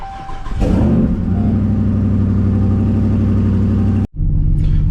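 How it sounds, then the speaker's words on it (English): Dodge car engine, sitting unused for a couple of days, starting up after a radiator fan replacement in a garage, then settling into a loud steady rumbling idle with a brief dip near the end. "This car hasn't been started in a couple of days, so might be a little bit loud."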